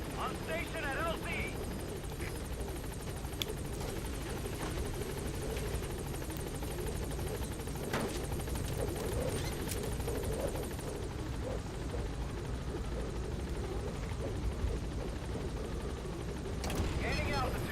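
The Pequod helicopter from the Metal Gear Solid video game hovering at a landing zone, a continuous loud rotor thrum with sharp intermittent bangs, with voices speaking over it.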